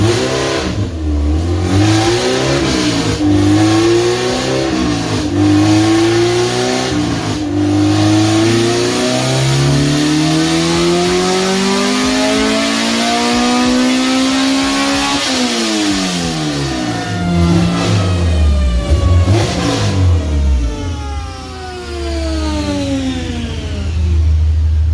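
A car on a dyno revs hard through an open header with the exhaust removed, the engine note sweeping up repeatedly and climbing to a loud, sustained roar, then dropping and rising again, loud and close throughout.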